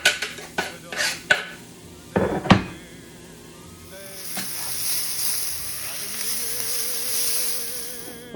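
Garlic being stirred into a pan with pork medallions, with several sharp utensil clinks and scrapes early on, then a steady low sizzle from the pan for the rest of the clip.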